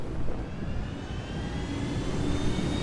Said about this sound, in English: And we get in the helicopter.